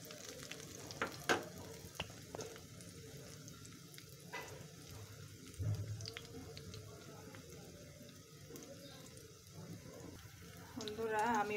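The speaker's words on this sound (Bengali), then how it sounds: "এই দুইটাও সুন্দর মতো ভাজা হচ্ছে।" Jute leaf pakora fritters fry in hot oil, giving a soft, steady sizzle with a few light clicks and taps of handling throughout, fairly quiet and close.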